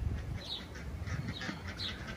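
A duck quacks in short repeated bursts over a noisy outdoor background on a farm where a chicken and a rooster are also kept, fairly near and moderately loud.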